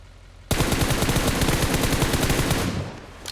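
Sustained automatic gunfire in the battle royale game PUBG Mobile, a loud, rapid burst of shots lasting about two seconds before it cuts off, with no talking over it.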